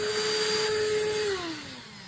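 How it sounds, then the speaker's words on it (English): A Ryobi Swift Clean spot cleaner's vacuum motor whines steadily at close range, then its pitch slides downward as it winds down near the end. "turns on the vacuum"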